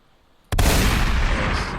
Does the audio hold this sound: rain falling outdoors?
no